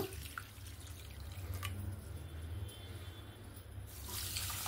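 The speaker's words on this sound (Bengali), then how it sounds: "আর ওই কাপ মেপেই আমি এখানে জলটা দেব।" Water poured from a measuring cup onto a cup of sugar to make syrup, a faint, steady trickle with a few small drips, no voices.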